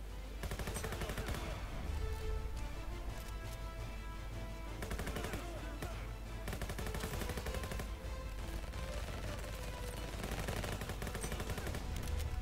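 Hip-fired guns crack in dense, nearly continuous rapid bursts in the Venge.io shooter, loud and close, over a busy mix of other game sounds with no pause for about twelve seconds.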